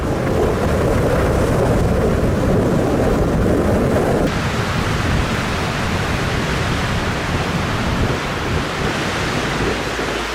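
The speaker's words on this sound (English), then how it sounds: "strong winds in St. Joseph, Michigan turned Lake Michigan into rough waters with massive waves repeatedly crashing into the pier" Massive waves on wind-whipped Lake Michigan crash into the pier at St. Joseph, Michigan, producing a loud, continuous roaring surge of water and wind noise that fills the whole stretch without any voices.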